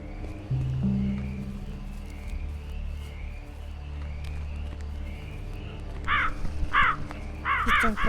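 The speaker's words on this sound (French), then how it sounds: "Putain de corbeau de merde." Crows caw at night in a cemetery, several harsh bursts in quick succession toward the end over a low rumbling background and a brief thud, with no one speaking.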